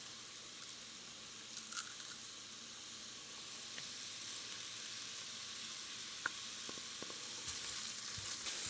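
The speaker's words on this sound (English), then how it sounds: "So the bacon fat is melted and pretty hot. So in goes the green pepper." Chopped green pepper sizzles in melted, hot bacon fat, a soft steady frying hiss with faint crackles and occasional small pops, fairly quiet and without talk.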